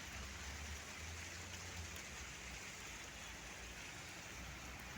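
Steady rain pouring down in the UAE, a dense continuous hiss with a low rumble beneath, with no voices.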